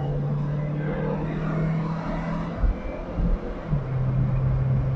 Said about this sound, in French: Allez, on accélère fort.